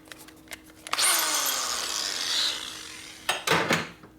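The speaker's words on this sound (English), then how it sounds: "Yeah, it's killing my drill." A power drill bores into a 1957 Harley panhead cylinder head, its high grinding whine rising and straining steadily for about two seconds, then breaking into a few short, loud bursts near the end.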